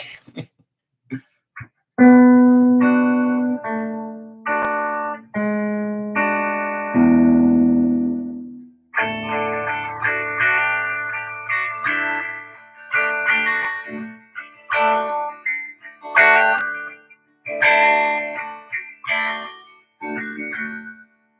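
A Gibson SG electric guitar plays a melodic run of picked notes and chords with effects-laden, chorused tone, no voices.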